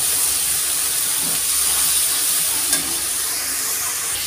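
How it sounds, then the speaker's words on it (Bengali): Note shak greens frying in a pan give a steady, moderately loud sizzling hiss throughout, with one soft clink near the end and no talking. "চলো শাকটা ভাজা হোক"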